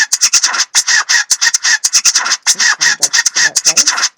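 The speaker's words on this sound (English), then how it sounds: "if I go into the vinyl one, I can get some scratching sounds" A scratchy, rhythmic rasping repeats in quick bursts, like a record being scratched back and forth, loud and close with no talking.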